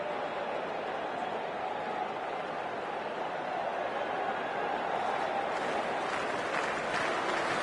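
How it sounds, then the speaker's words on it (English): A cricket stadium crowd at an India versus England semi-final keeps up a steady, loud roar of cheering and applause that swells slightly toward the end, with no talk standing out. "already the crowd is up and about"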